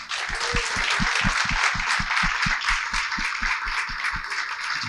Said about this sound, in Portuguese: eu já peço uma salva de palmas.